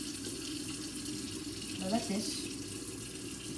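Water running steadily from a household tap into a sink, a constant hiss under a short spoken remark.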